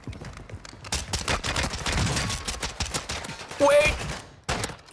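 Akimbo pistols hip-firing in a shooter game, a loud flurry of quick shots that thins into scattered bursts, with a brief sharp effect near the end and a final shot after a pause.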